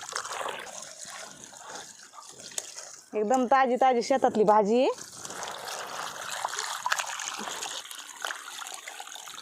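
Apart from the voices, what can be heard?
washing vegetables under tap water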